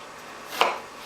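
A single knife chop through a sweet onion being cut into cubes, one brief crisp thud near and clear against a quiet kitchen background.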